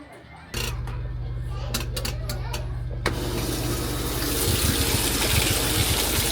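Tap water gushing into a container to fill it for laundry washing at home, starting abruptly and running as a loud steady splashing rush, with a few clinks early on and the flow growing fuller toward the end.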